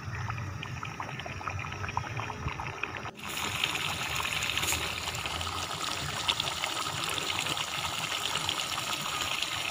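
Mutton and potato pieces frying in a pot for desi-style mutton aloo shorba, a steady close sizzle and crackle running throughout, briefly dipping then continuing a little brighter, with no talking.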